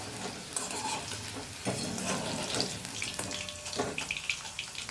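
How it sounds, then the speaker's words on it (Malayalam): Pieces of potato yam (kachil) shallow-frying in oil, a dense close sizzle with bursts of stirring and scraping as the pieces are turned in the pan. "അപ്പോൾ ഇങ്ങനെ തിരിച്ചും മറിച്ചുമൊക്കെ ഇട്ട് കൊടുത്ത് ഫ്രൈ ചെയ്തെടുക്കാം."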